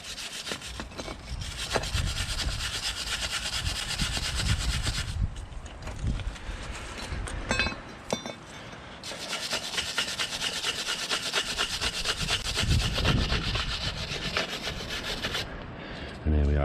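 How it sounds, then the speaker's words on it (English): A wire brush scrubs corrosion off the rear brake parts of a BMW 1 Series, rasping in long, loud, continuous scraping bursts with brief pauses, close to the microphone. "give these two parts a good scrub with a wire brush, get rid of all the corrosion"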